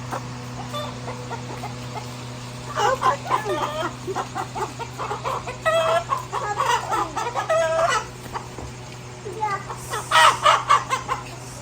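Chickens, two hens and two roosters in a village, cluck and squawk in irregular bursts over a steady low hum, with a faint rooster call mixed in.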